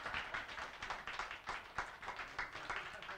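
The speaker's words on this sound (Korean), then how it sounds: "박수를 주세요." A church revival meeting audience claps steadily with fairly close, fast, even hand-claps across the whole span, and no voices on top.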